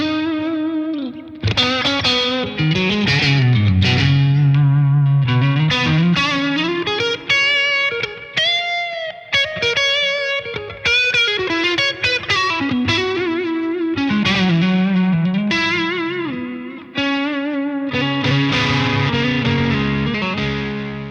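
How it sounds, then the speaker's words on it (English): Electric guitar runs through an Origin Effects Cali76 compressor pedal, playing even, sustained melodic lines and chords that ring out smoothly at steady loudness, alone and without speech. "let me turn on the Kali 76 real quick so you can hear that."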